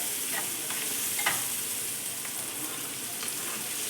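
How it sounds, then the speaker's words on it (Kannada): Chopped tomatoes hitting softened onions frying in a pan for a fenugreek leaf palya, a steady moderate sizzle with a few soft stirring clicks and spatters, no voices. "ಟೊಮೆಟೊ ಹಾಕ್ಕೊತಾ ಇದ್ದೀನಿ"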